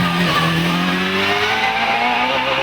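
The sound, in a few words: hillclimb racing car driving fast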